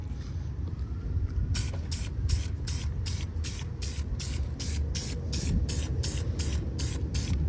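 Short bursts of aerosol spray paint as a first coat of blue goes onto a kei car's brake calipers, a steady run of about a dozen evenly spaced hissing pulses over a low background rumble.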